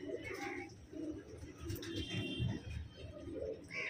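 A red pigeon coos in short low bursts, close to the microphone and fairly quiet, with a few brief pauses between the phrases and no talking.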